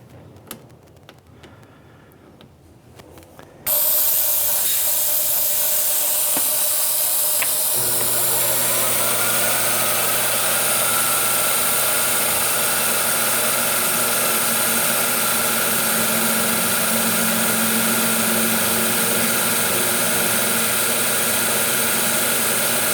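A milling machine runs a drill into a steel taper-tightening fixture for a toolpost grinder. After a few quiet seconds the machine starts abruptly into a loud, steady whir with a constant hum underneath.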